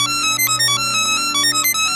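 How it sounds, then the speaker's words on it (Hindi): A phone ringtone rings at midnight in a cartoon story, its bright repeating electronic melody steady and loud, with no voices over it. "उसी रात जब सेठ सो रहा होता है, तभी आधी रात को सेठ का फोन बज जाता है।"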